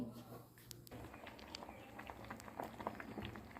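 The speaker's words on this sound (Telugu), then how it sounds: "ఈ విధంగా ఉడకనివ్వాలండి." Vermicelli payasam simmering in a pot, a soft bubbling patter with light irregular pops and faint clicks, quiet and close, with no speech.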